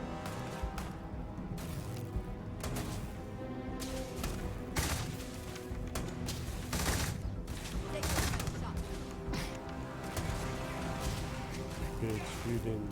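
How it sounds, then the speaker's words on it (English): Sustained gunfire fills a Cyberpunk-style corporate office shootout against Arasaka, with overlapping rapid shots and crashes over a dense bed of music and game noise; a voice talks over it. "Even the clerk right there is shooting at you"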